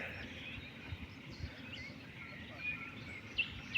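Faint birdsong at dawn by a fishing pond, scattered chirps and short tweets over a quiet background hiss, distant and sparse.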